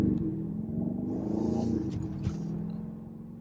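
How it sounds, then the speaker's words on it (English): Turbocharged 2022 BMW X6 M50i heard from inside the cabin at night in Houston: a steady low engine drone with a faint higher whistle riding over it, a small bump near the end, no talk. "I know y'all be hearing that turbo."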